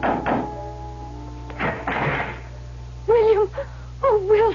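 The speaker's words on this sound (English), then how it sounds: "I knocked on the door of the Adams house." Knuckles rap on the wooden front door of a house at dusk as a radio drama sound effect: two quick knocks, then a few more thuds, close and solid, followed by voices answering.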